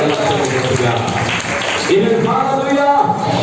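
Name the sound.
congregation applauding in church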